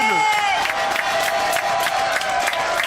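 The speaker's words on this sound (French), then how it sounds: "On les applaudit tous" A studio audience applauds and cheers on a French television variety show, dense clapping from a crowd with whoops, steady and loud across the short stretch, with a faint tonal sound running underneath.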